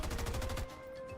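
A gunshot in XCOM 2 lands as a rapid burst of loud, punchy reports for about half a second, then cuts to a quieter hum with faint tonal ringing.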